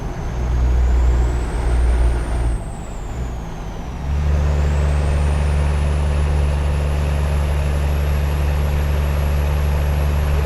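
Truck engine in American Truck Simulator, a loud steady low diesel drone with a rising whine; the tone dips briefly, then settles into a sustained rumble.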